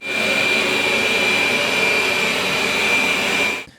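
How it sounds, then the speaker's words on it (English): A Roborock S7 MaxV Ultra robot vacuum runs at high airflow, a loud, steady whir with a constant high-pitched whine that holds evenly for several seconds before cutting off abruptly. "With the higher airflow, the S7 Max V Ultra will be slightly noisier, maxing at close to 73 decibels"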